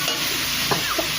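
Boiled potato and banana flower stir-fried in a pan with spices, heard as a steady close sizzle with a few light scraping stirs.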